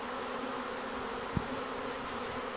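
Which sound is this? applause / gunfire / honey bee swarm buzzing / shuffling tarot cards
honey bee swarm buzzing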